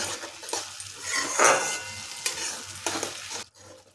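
Tomato stir-fried in a sizzling pan, with repeated scraping strokes of a spatula against the metal over a steady hiss, close up, until a sudden stop near the end.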